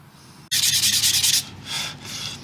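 Sandpaper rubs in quick rhythmic strokes along a wooden Strat-style guitar neck, loud and close for about a second, followed by a softer second pass.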